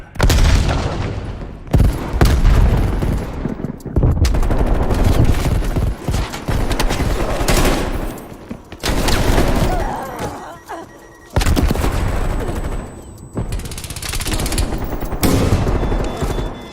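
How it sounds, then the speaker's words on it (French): Gunfire, explosions and rapid impacts from a Call of Duty Cold War match on PC around a thrown grenade, loud bursts cut by brief quiet gaps, with no clear distinct grenade blast standing apart. "Je lance une grenade."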